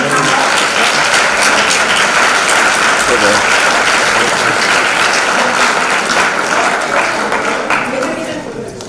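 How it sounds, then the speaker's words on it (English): A large audience at the WEF-EU 2017 closing plenary and awards ceremony applauds in a dense, steady wash of clapping that holds loud throughout and tapers off at the very end. "And a nice round of applause from those not holding your hand up."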